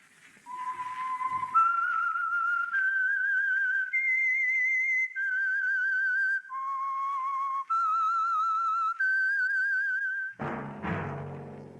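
A clear, close whistled melody of sustained, wavering notes stepping up and down, ending in a sudden burst of louder, fuller sound, the opening theme of the 1947 CBS radio drama The Whistler.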